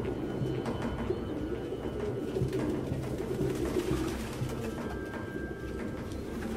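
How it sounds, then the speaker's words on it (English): Pigeons coo continuously in a dense, murmuring flock within the video game Detroit Become Human, soft rolling calls layered over a low ambient hum, steady and fairly close, with no speech. "No human could live with all these fucking pigeons."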